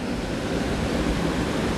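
Sgwd Einion Gam, a small waterfall beneath an overhanging lip of rock in a forest basin on the Elidir Trail, gives a steady, even rush of falling water at moderate volume with no other sounds.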